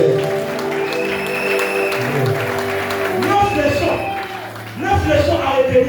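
A church congregation in Lubumbashi breaks into sustained applause to acclaim the Lord, broad clapping swelling toward the end with some shouts mixed in.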